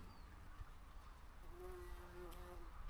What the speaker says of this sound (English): I think she's a bumblebee.